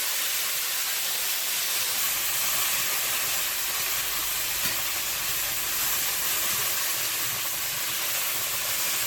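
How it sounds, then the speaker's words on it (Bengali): Okra and pennywort leaves frying in hot oil in a wok, a dense continuous hiss and sizzle that stays loud and unchanging from start to finish, with no talking. "কড়াইতে তেল দিয়েছি, একটু 5 ফোড়ন দেব, দিয়ে এই ঢেঁড়সটা আর এই থানকুনি পাতাটা ভেজে নেব"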